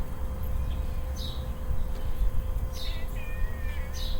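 A house cat gives a few short meows spread across the moment, heard over a steady electrical hum and quiet room noise.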